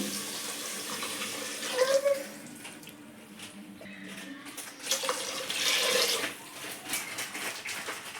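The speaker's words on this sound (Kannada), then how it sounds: "ಈಗ ಇದಕ್ಕೆ ನಾನು 1 ಗ್ಲಾಸ್ ಅಕ್ಕಿಗೆ 2 ಚಮಚ ನೀರು ಹಾಕೋತಾ ಇದ್ದೀನಿ." Water is poured into rice with vegetables and spices for a dill (sabbasige) pulao, splashing close by in uneven bursts that swell and ease, with faint speech underneath at times.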